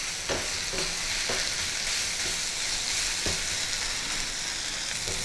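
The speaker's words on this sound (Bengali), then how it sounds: "নারকেল কোড়া, আদা বাটা আর মৌরি গুঁড়োতে একটু জল দিয়ে ভালো করে কষিয়ে নিচ্ছি।" Grated coconut, ginger paste and fennel powder fry with a little water in a pan, giving a loud, dense, continuous sizzle with faint periodic scrapes of stirring, close up and with no voices.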